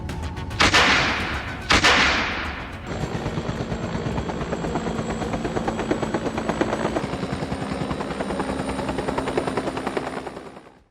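Loud, close helicopter with a rapid rotor chop throbbing steadily, opened by two sharp gunshot-like blasts before the engine drone settles in, during a wild boar hunt from the air in Texas.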